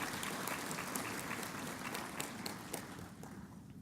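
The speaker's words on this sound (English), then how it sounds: "So I would like to ask for a round of applause for their presence." An audience at a conference opening ceremony applauds, broad sustained clapping from many hands with scattered sharper claps, steady then tapering slightly toward the end.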